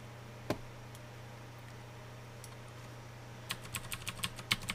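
Arrow keys on a computer keyboard are pressed, first a single click and then a quick run of light taps near the end, quiet and close with no talking.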